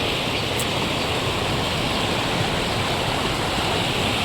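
Mountain stream flowing at low volume, a constant close rush of water running alone without pause.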